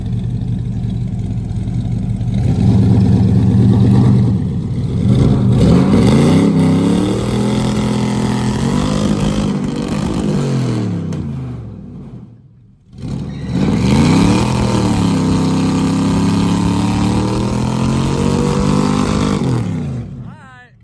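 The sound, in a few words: truck doing a burnout with boom tube exhaust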